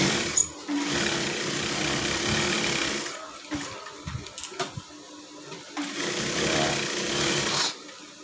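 A sewing machine stitching the side pocket of a blouse, running in close, loud buzzing bursts of stitching broken by short pauses and small clicks of fabric handling.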